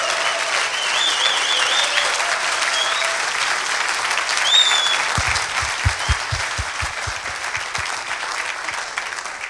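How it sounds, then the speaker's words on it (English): Sustained audience applause for winning teams at the ARCADIS Imagine 2012 event, dense and steady throughout, with some low thumps near the end. "Let's clap for them right now."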